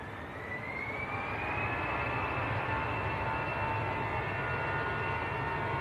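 EasyJet jet departing Manchester Airport for Geneva, a loud sustained engine roar with a rising whine that builds and then holds steady, heard alone without talk.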